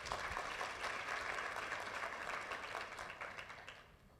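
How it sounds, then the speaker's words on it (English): Audience applause in a conference hall after a welcome address, steady broadband clapping that holds for about four seconds and then gradually thins out, fairly faint and distant. "Can we please clap for her?"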